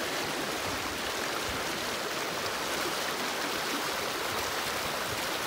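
A mountain stream at a hiking crossing flows in a steady, even rush of water, close and continuous with no voices.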